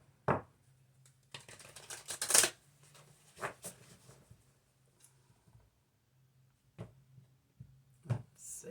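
Tarot cards are shuffled by hand for a reading, close and quiet, in irregular bursts of riffling and soft slaps with pauses between, plus a few light taps.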